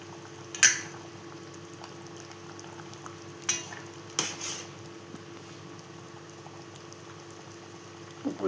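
Pomfret fish curry simmering in a pot, a quiet bubbling hiss with a few sharp clinks and knocks of utensils against the pot scattered through.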